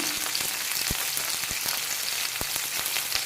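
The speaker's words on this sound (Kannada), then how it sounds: "ಚೆನ್ನಾಗಿ ಎಲ್ಲ ರೋಸ್ಟ್ ಮಾಡ್ಕೊತೀನಿ" Whole spices, including cloves, cardamom, star anise and cinnamon, roast in a pan for vegetable pulao with a steady hiss punctuated by small crackles and pops, close and continuous.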